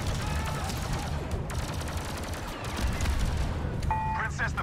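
Blaster fire in a Star Wars Battlefront II campaign battle at the gates of Naboo, a dense, continuous barrage of shots layered with explosions, effects and a voice speaking throughout.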